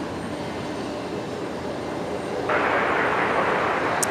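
A Singapore airliner arrives on runway 01 left at Brisbane Airport. A steady, broad engine roar holds throughout and swells noticeably louder partway through, with no talking.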